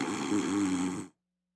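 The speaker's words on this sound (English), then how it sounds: "Is that like a little grunt there? A little snore?" A person lets out a short snore-like grunt, one steady low rasping breath lasting about a second, close and fairly loud, then it cuts to silence.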